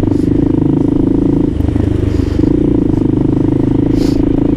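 A Kawasaki KLR650 motorcycle engine idles and runs steadily up close in a snowy setting, a loud continuous low thrum with a brief dip midway before picking back up.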